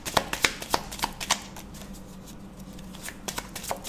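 Tarot cards are shuffled by hand and a card is drawn, producing a quick run of crisp riffling slaps, a brief pause, then a few more soft card snaps close by.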